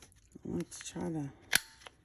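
A corner rounder punches a rounded corner on a paper journal card, making one sharp, close click right after a stretch of talking.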